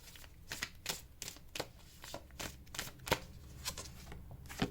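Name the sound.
tarot cards being shuffled and drawn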